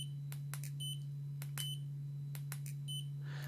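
An AMES laser distance measure emits a series of short, sharp electronic beeps, irregularly spaced, over a constant low hum.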